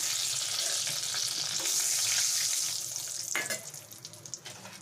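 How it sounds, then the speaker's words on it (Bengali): Bay leaves dropped into hot oil in a pan while cooking a chicken curry: a loud, dense sizzle and crackle that fades over the second half into scattered pops and a few utensil clinks. "এবারে আমি আলুটাকে উঠিয়ে নেব আর দুটো তেজপাতা দিলাম"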